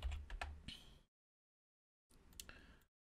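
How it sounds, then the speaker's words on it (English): Computer keyboard typing in two short bursts of close, quiet clicks separated by a second of silence. "So let's type that in."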